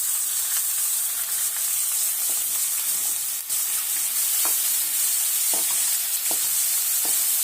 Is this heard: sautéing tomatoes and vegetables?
yes